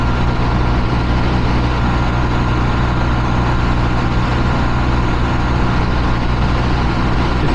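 A Honda Trail 125 engine drones loud and steady at wide open throttle in fourth gear around 7,000 RPM, with wind rush throughout and no pauses.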